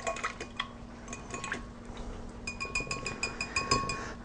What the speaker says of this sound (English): I'm going to just break up the egg a little bit.